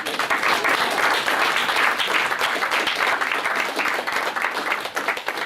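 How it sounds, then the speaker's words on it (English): A symposium audience applauds, a thick, continuous roar of many hands clapping at an even level throughout, with no speech over it. "I want a round of applause for Scott"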